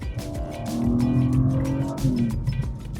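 A 2025 BMW M3 Competition Touring engine blipping through gearbox downshifts, a loud rising and falling roar with crackling pops from the exhaust, close and continuous over three seconds.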